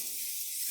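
Cooking spray from a can of Pam hisses steadily onto a preheated grill, one continuous bright airy spray that stays close and fairly quiet and carries no voices.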